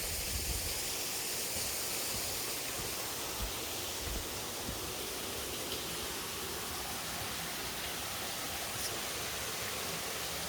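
Water flowing downhill through a ruined wildlife park, a steady broadband rush, close and constant, with no voices.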